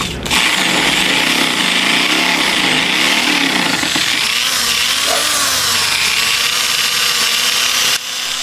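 A local electric drill runs loud and continuous with a harsh whine and rough grinding, steady for several seconds before cutting off abruptly near the end.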